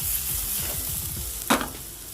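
Onions frying in a pan as chopped garlic goes in, with a dense close sizzle and rhythmic stirring scrapes, then a single sharp clink of a utensil partway through.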